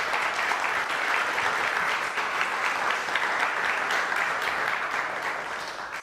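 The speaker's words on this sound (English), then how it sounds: "And applause." Sustained audience applause after a conference talk, a dense steady wash of many hands clapping at once, fading slightly toward the end.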